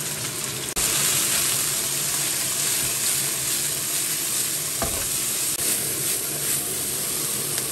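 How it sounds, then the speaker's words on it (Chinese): Chili peppers stir-fried in a wok for a home dinner, a loud steady sizzle with a brief pause near the start and occasional scraping and clanks of the spatula. "炒的差不多，把这个辣椒放进去。"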